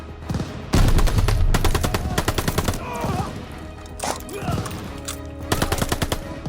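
Gunfire in the video game Call of Duty: Vanguard, with loud rapid bursts of automatic fire broken by short pauses, some shots close and others further off, and faint voices between the bursts.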